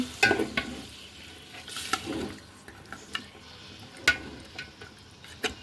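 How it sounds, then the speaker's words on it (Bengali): Beef soaked for half an hour being stirred in a pot for tehari cooked in mustard oil: quiet, scattered scraping and clinking strokes of a utensil with soft sizzling underneath, irregular and close. "মাংসটা আমি এখন দিয়ে দেবো, আধা ঘন্টা ভিজিয়ে রেখেছিলাম। নাড়াচাড়া দিয়ে দিচ্ছি।"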